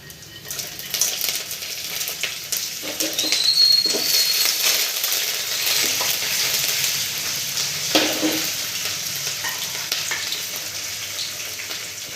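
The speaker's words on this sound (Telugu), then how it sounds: "పెసరపప్పు, పల్లీలు, ఎర్రపప్పు, శనగపప్పు, బగారాకు, కరివేపాకు అన్నీ వేసుకొని ఫ్రై చేసుకోవాలి." Lentils, peanuts, cumin, bay leaf and curry leaves frying in oil for upma, a steady close sizzle with occasional stirring scrapes and clinks, no talk.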